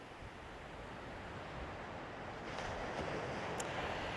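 Wind on the beach at Aberdeen on a warm, sunny evening, a steady broadband roar buffeting the microphone and building slightly louder toward the end, with surf blended in and no voices.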